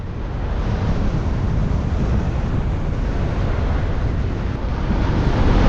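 Strong westerly wind roars steadily across the microphone while paragliding near Řevničov, a loud continuous buffeting rush without speech.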